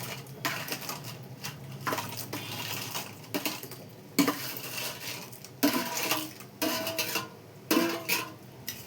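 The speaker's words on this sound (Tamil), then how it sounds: "இப்போ இந்த நண்டை போட போகிறோம். கழுவி வச்ச நண்டை போட போகிறோம்" Washed crab pieces clatter into a pot of simmering Tamil crab curry with cooked potatoes, a string of close, sharp knocks and scrapes against the metal arriving in irregular bursts over several seconds.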